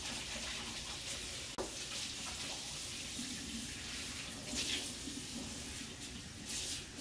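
Hot water running steadily from a tap into a kitchen sink, a continuous close hiss and splash with slight surging, one brief knock partway through, no talking.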